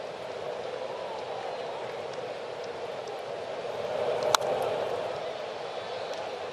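Steady rain pouring down on an outdoor Mets versus Braves baseball game, a broad continuous hiss of falling water holding even throughout, with one sharp brief crack midway.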